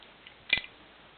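A single quick metallic click and slide comes from a breech bolt being pulled out the back of a Winchester 1897 shotgun receiver. It is close and faint, with a few softer ticks around it in a quiet room.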